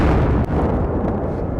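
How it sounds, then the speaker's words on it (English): Rocket shelling in the war in Ukraine: a loud, rumbling blast with a sharp crack near the middle, heavy low-end booming that lingers and rolls on afterward. "This time, the explosions are closer than ever."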